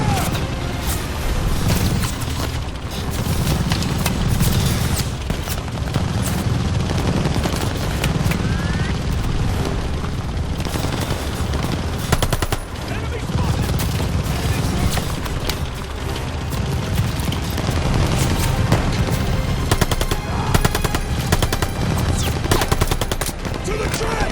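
Dense machine gun fire and explosions rattle on continuously through a World War II beach battle in Call of Duty: Vanguard, loud and chaotic with shouted voices mixed in.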